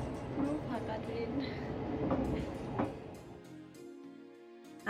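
A rumbling, rattling interior of a moving train on a journey toward Salzburg, a steady rolling roar with clicks that eases and quiets toward the end, while a person talks over it.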